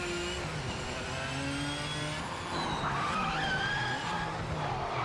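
A race car in the Project Motor Racing game loses its rear end under early throttle, its tires squealing in a long continuous skid over the steady engine drone, loud and close throughout.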